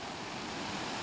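River water flowing steadily at night after heavy rain, a continuous broadband rush close to the microphone with no voices.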